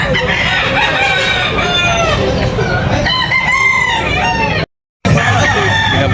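Gamefowl roosters crow loudly and repeatedly at a bustling market in Tabunok, Talisay, Cebu, with overlapping calls and clucking close by, broken by a brief silent gap near the end.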